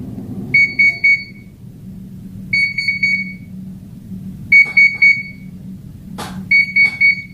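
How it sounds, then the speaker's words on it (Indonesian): A Beko UVC sterilizer cabinet alarm beeps in short bursts of three, signalling the cycle is finished, repeating every couple of seconds over a steady low motor hum. "Ada bunyi alarm begitu ya, menandakan sudah selesai."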